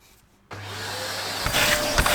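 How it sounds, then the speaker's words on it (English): A vacuum cleaner switches on after a moment of quiet and runs with a steady loud whine and rushing airflow while cleaning inside an old Toyota Soarer drift car, with brief scraping changes in pitch. "Alright, let's vacuum. This vacuum better suck."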